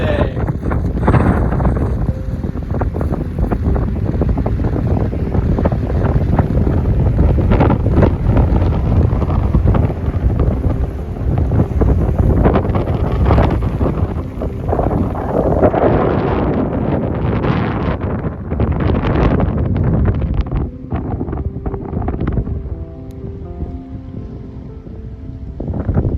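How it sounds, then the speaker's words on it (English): Strong, steady wind buffets the microphone on a lakeside hike at Kolsai Lakes, a continuous loud roar with gusty surges and no pause throughout. "Just a little windy today."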